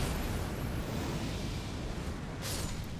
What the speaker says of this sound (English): I think the explosion pushed me